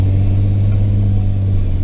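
A turbocharged engine runs close up with a loud, steady, low droning rumble at an even pitch, with no clear rise in revs across the short stretch.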